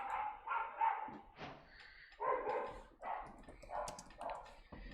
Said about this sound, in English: The dogs are barking.